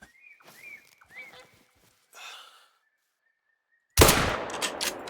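A hunting rifle in theHunter: Call of the Wild fires a single loud, close shot at an animal after several quiet seconds of faint tonal calls and rustling, its blast ringing out and trailing off.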